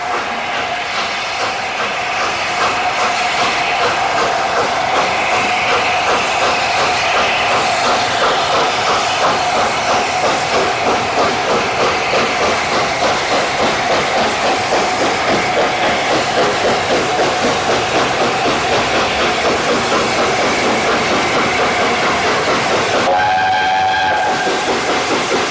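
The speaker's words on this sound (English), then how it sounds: "The train ran into Westbury Station from the south" The Mallard steam train rolls past steadily and loudly with a continuous rhythmic clatter of wheels, and near the end a sharp steam whistle sounds once.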